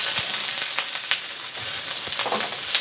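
Onions frying in neutral canola oil in a wok for a noodle dish: a steady, close hiss of sizzling with a few sharper crackles and light scraping, no voices.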